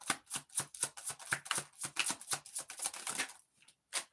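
Tarot cards being shuffled and drawn by hand: a quick run of crisp riffling and slapping card sounds in a rapid rhythm, close and fairly quiet, pausing briefly before a final flick.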